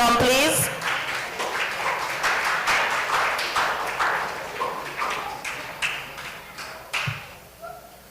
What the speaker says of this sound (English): feel free to give them a round of applause as they take their seat